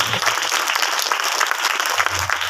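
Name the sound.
congregation clapping loudly to thank the Lord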